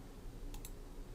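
Two quick, faint mouse clicks close together in the middle of a quiet stretch with steady background hiss, made while testing a JavaScript FAQ slider on a computer.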